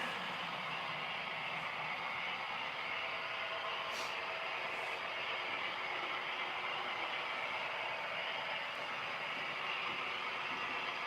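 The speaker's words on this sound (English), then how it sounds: "And I'll get another train running." A model train runs on a layout track, giving a steady, faint mechanical rumble and hiss that holds level throughout, with a couple of light ticks and no voices.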